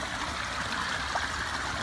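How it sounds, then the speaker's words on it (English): Steady, broadband rush of water spilling down a naturalistic pond waterfall at a school, heard close and continuous with no voices. "where we created our most incredible naturalistic water feature ever"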